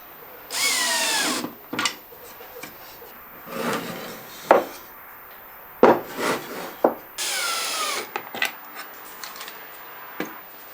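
A power drill fixes runners onto wooden drawers in short whirring bursts, two longer runs separated by brief buzzes, knocks and scrapes of wood, close by.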